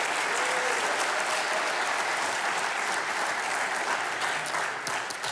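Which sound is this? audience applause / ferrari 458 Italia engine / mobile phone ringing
audience applause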